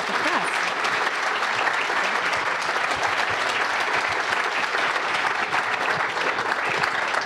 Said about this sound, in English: big hand of applause for your moderators all day and success